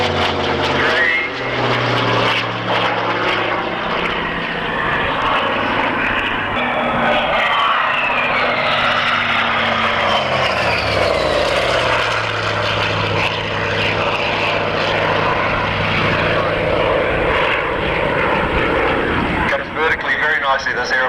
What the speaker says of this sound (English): we pitch the nose up a little bit for a 4-point roll